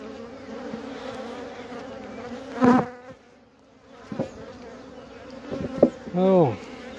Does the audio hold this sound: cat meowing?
no